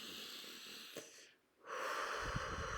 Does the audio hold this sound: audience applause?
no